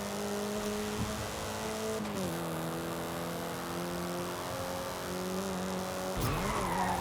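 Car drifting on drift tires in Forza Horizon 5, a steady engine drone with sustained tire squeal that shifts pitch as the car slides and changes gear, continuous and close throughout.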